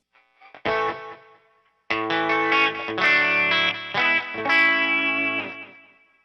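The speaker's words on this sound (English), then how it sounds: "So I'm actually going to go back to the two-stage phaser now." Electric guitar chords and notes through a Keeley Vintage Phaser on its two-stage setting, with a sweeping, swirling tone, a short phrase, a pause, then a longer strummed passage ringing out.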